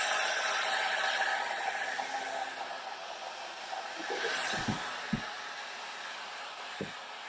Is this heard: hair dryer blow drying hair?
yes